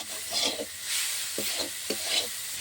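A spoon scrapes and stirs through a thick mixture of sugar and grated coconut melting in a pan, with soft sizzling between the strokes, close up and with no talking.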